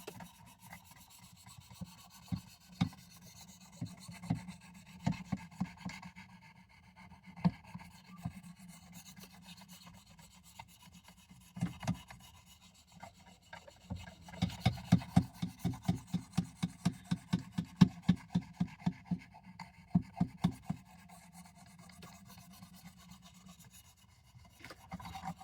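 Steel blade of a WW2 vintage M3 knife being sharpened, repeated rasping strokes in uneven bursts, some slow and spaced, then a quick busy run of close strokes; no talking.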